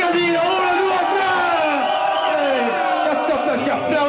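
A group of people shout, whoop and cheer together loudly and continuously, a dense roar of excited voices reacting to a Flawless Victory quarterfinal match.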